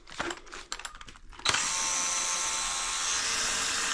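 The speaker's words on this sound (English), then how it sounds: "It tried in desperate vain to drill the holes" A Ryobi drill fitted with a hole saw cuts into sheet metal, starting after a few scattered clatters with a sudden loud, steady high-pitched grinding whine that holds on continuously, close up, with no talking.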